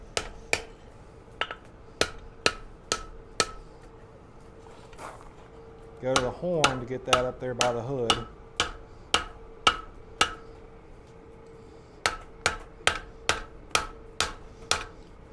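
Sharp metallic hammer strikes ring out on an anvil while a farrier rasp cross is forged, the blows coming in steady bursts with short pauses. Someone talks over part of the hammering.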